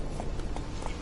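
Roach, the horse in The Witcher 3, gallops with steady clip-clop hoofbeats that run close and fairly loud across the whole moment, with no voices over them.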